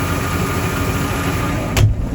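A farm tractor idles at a grain silo during the sorghum harvest, its engine a steady, close, rumbling drone that holds constant throughout, with a brief bump near the end.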